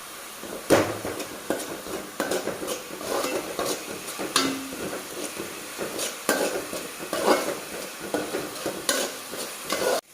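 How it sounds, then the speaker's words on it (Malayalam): Onions, garlic and curry leaves sauté in a pan for a Kerala tapioca stir-fry, with steady sizzling under repeated clanks and scrapes of a utensil stirring against the pan, close and fairly loud. "നമുക്കിത് നന്നായിട്ടൊന്ന് വഴറ്റിയെടുക്കാം. നമുക്കിതിലേക്ക് കുറച്ച് കറിവേപ്പില ആഡ് ചെയ്ത് കൊടുക്കാം."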